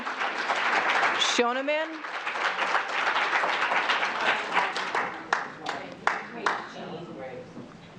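Audience at a school board meeting clapping in a thick burst of applause that gradually thins to scattered claps, with a person speaking over it and a brief electronic chirp early on.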